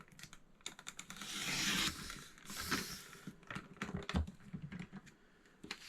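A paper trimmer slices through an 8-inch sheet of scrapbook paper, giving scratchy, clicking bursts as the blade slides along, with one longer swish near the start and quick rustling strokes after. Close and fairly quiet, with no voices.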